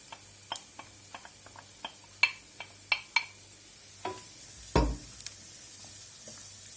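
Grated carrot and onion cooking in a pan, with a low steady sizzle broken by a series of sharp taps and scrapes of a utensil stirring, close up and with no talk.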